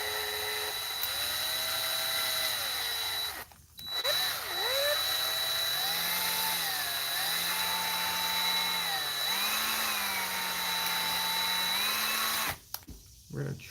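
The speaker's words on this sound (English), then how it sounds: "We're going to try to drill out some holes inside of this." A power drill whirs loudly and continuously, drilling holes into a musical guitar toy lantern, its pitch rising and falling as it bites into material, with two brief pauses and restarts.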